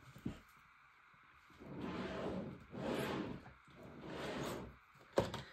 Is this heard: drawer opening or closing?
yes